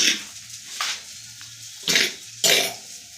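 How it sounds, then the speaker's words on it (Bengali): A person coughs in a home setting: three or four short, close, harsh bursts spread over a few seconds, with quiet pauses and a low hum between them. "কাশি হচ্ছে"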